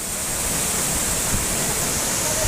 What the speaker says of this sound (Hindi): किले के आधार पर झरना बहता दिख रहा है।